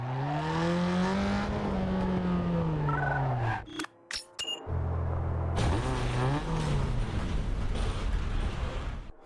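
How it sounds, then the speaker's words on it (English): A Toyota Corolla's engine runs in the Need for Speed Underground 2 racing game, a loud steady drone whose pitch rises and falls. It cuts out briefly midway with a few clicks, then resumes at full volume. "The engine is running"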